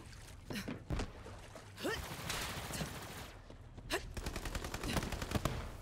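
Rapid gunfire in the Borderlands 3 shooter, several bursts of sharp shots over continuous game sound and music, with a voice briefly heard between volleys.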